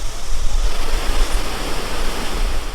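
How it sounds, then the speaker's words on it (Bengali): Usri Falls near Dhanbad, its water pouring down in several streams, gives a loud, steady, close roar of rushing water with no break and no voices. "এই হচ্ছে উশ্রী ফলস।"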